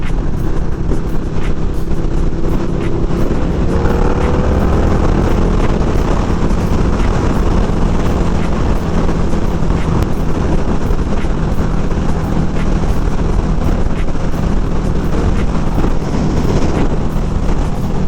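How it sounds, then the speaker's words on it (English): Inside a Ruroc Atlas 3.0 helmet on a motorcycle at 70 mph, wind roars continuously over the shell, a loud, broad rushing noise with engine drone beneath. "the raw sound that you'll get in the helmet"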